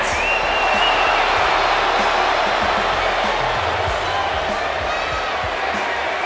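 Crowd noise from a wrestling arena in the WWE 2K video game, a steady roar of cheering and applause that stays loud throughout.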